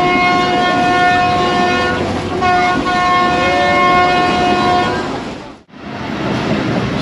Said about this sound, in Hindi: और ट्रेन फाइनली अरावन जंक्शन पहुंच गई है।